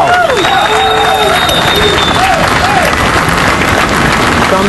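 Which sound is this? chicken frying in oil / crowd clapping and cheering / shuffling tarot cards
crowd clapping and cheering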